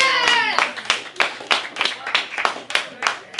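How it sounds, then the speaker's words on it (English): Audience at a hypnosis show clapping in a steady, evenly spaced rhythm, roughly three claps per second, close and fairly loud, with a brief voice at the very start. "Clap your hands, ladies and gentlemen."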